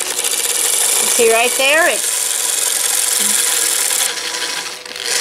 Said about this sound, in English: that's what's gonna wind that bobbin up